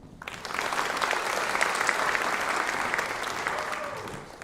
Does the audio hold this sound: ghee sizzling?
no